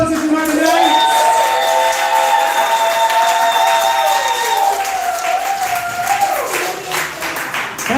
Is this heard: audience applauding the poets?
yes